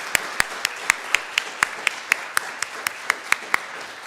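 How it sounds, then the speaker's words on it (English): A single person claps slowly and steadily, about sixteen evenly spaced sharp claps, at a graduate student research talks event. "all of our speakers deserve a huge round of applause for"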